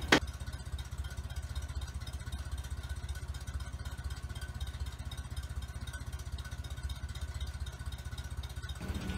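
A 1953 Ford Jubilee tractor engine runs steadily at idle, a close, continuous low chugging throb that holds for about nine seconds with no voices.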